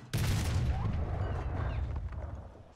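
Tank guns go off in a sharp, loud blast with a heavy low boom that rolls away and fades over a couple of seconds, followed by a faint tail of rumble.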